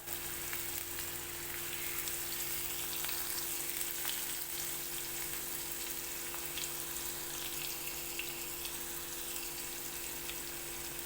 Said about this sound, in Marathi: लसूण पण आता चांगला आता भाजत आला तळून घेतला आहे खरपूस